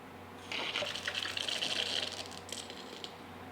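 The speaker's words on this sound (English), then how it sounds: "we just need a little trickle of water that's going to run through this" A faint trickle of water runs through condenser tubing on a lab glassware setup during a cis/trans isomerism experiment, starting abruptly and flowing softly for about two and a half seconds before tapering.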